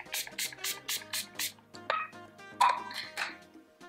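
Too Faced Hangover 3-in-1 Replenishing Primer and Setting Spray mists out in about half a dozen short, quiet hissing pumps, evenly spaced, followed by a few softer irregular spritzes.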